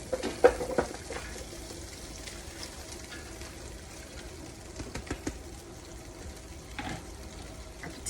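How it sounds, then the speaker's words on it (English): Vegetables go into pork chops already browned in a roaster, with steady low sizzling and frying, soft stirring and a few clatters and thumps near the start. "I'm going to add our vegetables."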